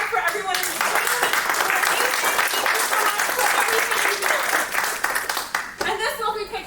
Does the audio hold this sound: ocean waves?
no